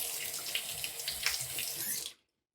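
Tap water running steadily into a sink as shaving lather from a safety razor shave is rinsed away, a close, continuous splashing hiss that cuts off abruptly near the end.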